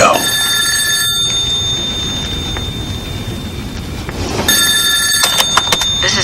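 A telephone bell rings indoors in loud, buzzy bursts, one near the start and a longer trilling run near the end, over a steady low hum.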